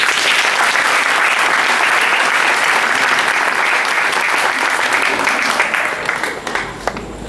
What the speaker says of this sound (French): je souhaite que vous les saluez et que vous les applaudissez.